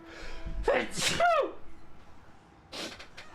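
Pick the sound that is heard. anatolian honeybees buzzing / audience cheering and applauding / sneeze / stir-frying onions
sneeze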